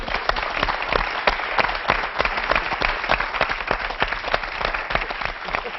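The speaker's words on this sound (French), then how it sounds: "on vous applaudit" A studio audience applauds the authors with a dense, lively burst of clapping. Sharp individual claps stand out, and the applause stays fairly loud and continuous throughout.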